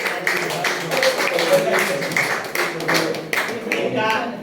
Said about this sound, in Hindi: तो इनके लिए एक बार जोरदार तालियां